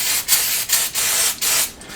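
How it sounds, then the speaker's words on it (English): Throttle body cleaner sprayed from an aerosol can as a degreaser on a capstan winch, heard as four close hissing bursts separated by brief gaps, loud and alone. "I find throttle body cleaner really works well."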